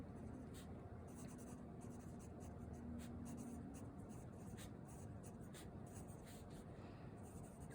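Numbers written down by hand, likely pencil or pen on paper during a multiples-of-2 math exercise, scratching in a steady run of short strokes under a low room hum.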